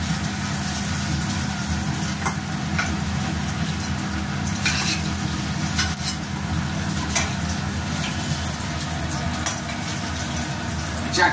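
Food lightly frying in oil in a pan makes a continuous sizzle over a constant low, engine-like hum, with scattered sharp clicks and stirring knocks.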